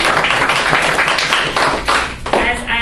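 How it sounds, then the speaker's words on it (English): A morning audience at a career talk breaks into a round of applause, dense close clapping that stays loud and continuous before tapering near the end, with a voice speaking over it. "can I just have a round of applause for all of you for showing up"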